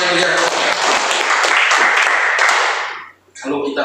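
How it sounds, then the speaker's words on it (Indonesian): Enthusiastic congregation applause at an apartment church worship service, a loud, dense wash of many hands that fades near the end before a short renewed burst, with voices mixed in. "Berikan tepuk tangan yang paling meriah."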